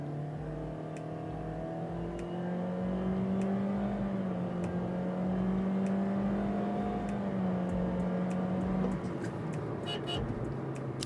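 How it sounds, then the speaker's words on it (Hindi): A 2025 Toyota Corolla Altis 1.6 X Special Edition pulls away from a standstill at full throttle, its engine drone climbing and holding a steady high pitch for about nine seconds before easing off, loud and close from inside the cabin. "ये मैंने फुल थ्रोटल दिया है।"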